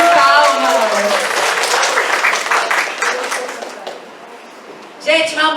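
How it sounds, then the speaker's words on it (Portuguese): Applause from an audience welcoming a woman to the stage at an immersion event, steady and fairly loud for most of the stretch, thinning out, then picking up again at the end alongside a voice and music. "Uma salva de palmas."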